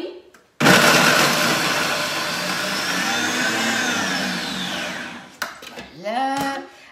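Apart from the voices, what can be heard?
food processor on turbo chopping parsley, carrots, garlic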